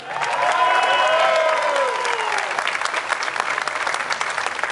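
A crowd at a Schützenfest honouring the shooting club majesties applauds loudly and steadily. A few whistles and cheers rise over the clapping early on.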